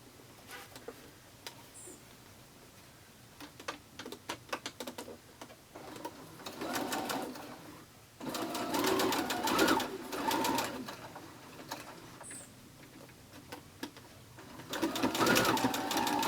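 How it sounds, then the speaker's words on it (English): A sewing machine stitches two quilt block pieces together in a series of steady mechanical bursts that start, pause and restart, running loud and close with quiet gaps between runs. "We're going to just stitch these 2 together."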